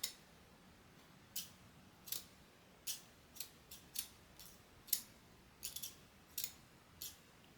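Bonika Big Red grooming scissors snip repeatedly after repair, a series of sharp, close metallic clicks spaced irregularly, some in quick pairs, with quiet between cuts.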